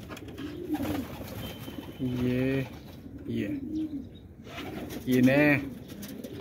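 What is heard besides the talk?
pigeons cooing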